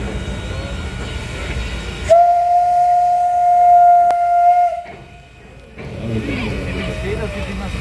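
A locomotive whistle sounds one long, steady, loud blast for almost three seconds during a locomotive parade on a turntable at Rendez 2025, with ambient crowd and yard noise before and after.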